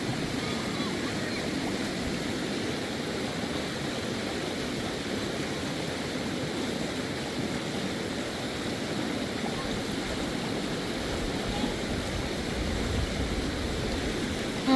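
Rushing river water at a hiking crossing, a continuous broadband roar of flowing current, close and steady throughout with no break.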